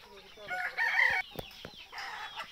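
A rooster crows loudly over clucking desi and Sonali chickens on a poultry farm, with a second crow following shortly after.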